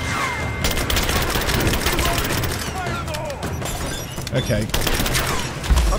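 Dense gunfire rattles through a fight in the video game Rise of the Tomb Raider, rapid overlapping shots and impacts at steady loudness, with a brief spoken word near the start.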